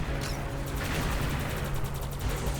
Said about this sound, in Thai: ยิงบอสก่อนเลยครับอันดับแรก